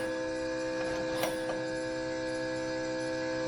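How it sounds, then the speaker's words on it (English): A UDIAG ALT400 smoke leak detector runs steadily, its pump giving a constant mechanical hum with tonal whine throughout, plus a brief hiss burst partway through, checking for intake manifold and exhaust leaks. "Man, this thing pumps out the smoke."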